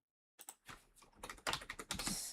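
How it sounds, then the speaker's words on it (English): Typing on a computer keyboard, heard close and fairly quiet: a burst of irregular clicking keystrokes begins after a short silence and grows busier and denser toward the end, with no talk. "I'm still typing out the description."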